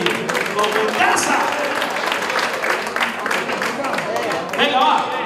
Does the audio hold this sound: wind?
no